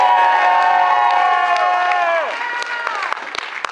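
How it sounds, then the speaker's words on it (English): An audience breaks into loud cheering with shouts and whoops, voices ringing out together before thinning into scattered clapping and a few calls near the end. "Applause for Ivan."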